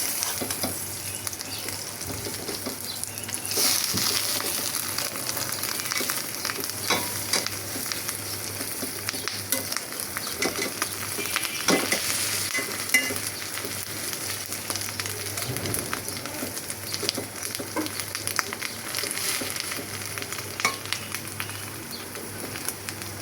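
Roti fries in a pan with a continuous crackling sizzle, steady and fairly close for over twenty seconds, with occasional light scrapes and clinks.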